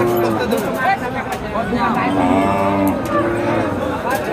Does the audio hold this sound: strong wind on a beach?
no